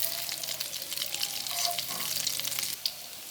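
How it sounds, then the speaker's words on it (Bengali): Bread snacks deep-fry to a light brown in hot oil, giving a loud, close crackling sizzle with scattered pops that drops sharply near the end as the frying is interrupted. "সবগুলো নাস্তা আমি এইভাবে করে ভেজে নিতেছি"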